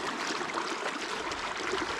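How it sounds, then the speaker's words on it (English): Fast river current rushing over rocks, a steady broadband rush of churning water that stays close and constant throughout with no voices. "the current's ripping through there"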